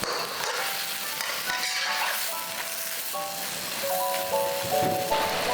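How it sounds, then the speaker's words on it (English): Soft, steady sizzling of chanterelle mushrooms being tossed with oyster sauce in a wok, a continuous hiss with light scraping and rattling throughout, fairly close and without talk. "Now thoroughly mix this around so all the mushrooms will have some of their flavor."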